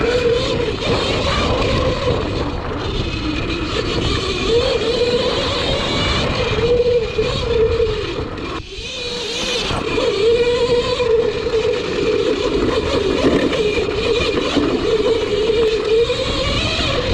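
A CAKE Kalk electric motorcycle with an 82-tooth rear sprocket rides off-road on single track. Its motor gives a steady humming whine over constant wind rush, with a brief dip partway through.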